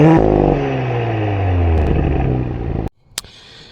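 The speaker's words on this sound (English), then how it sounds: "I promised you we're going to listen to those exhausts" A 2023 Audi S5 Coupe exhaust revs hard with a falling engine note, then cuts off abruptly, followed by a brief click and near silence.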